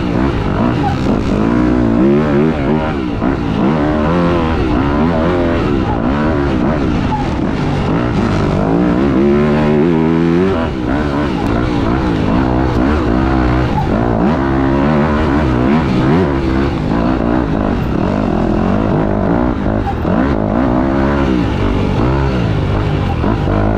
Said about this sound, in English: playing the bike noise real loud so I can't hear myself